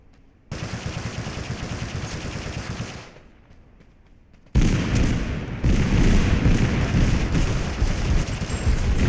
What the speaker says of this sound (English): we are going to engage with a bouncy grenade